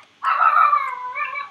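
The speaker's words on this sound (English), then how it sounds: "What? Shut up, dog!" A single drawn-out dog vocalization, more howl or whining yelp than sharp bark, rises suddenly and holds for over a second before trailing off, fairly loud and close, with no talking over it.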